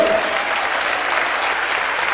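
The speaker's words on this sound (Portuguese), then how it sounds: "Vamos dar uma salva de palmas no céu, porque você é de Deus" A church congregation breaks into steady, dense applause, many hands clapping together at close range with a faint murmur of voices mixed in, sustained without a break.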